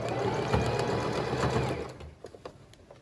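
A sewing machine stitches along gathered fabric for a layered skirt, a steady close whirring run that slows and breaks into short bursts and pauses toward the end.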